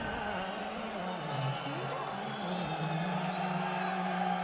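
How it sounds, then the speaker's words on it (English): Crowd noise at a heavyweight boxing match, a steady broad wash of applause and murmuring that holds at an even level throughout, with no single voice standing out. "some polite applause from the crowd"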